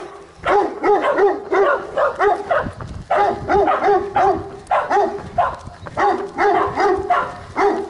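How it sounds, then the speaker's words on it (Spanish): A dog barks repeatedly at a trail runner on asphalt, loud close yips and bow-wows in rapid bursts with brief pauses between volleys. "Es el perro que siempre ladra"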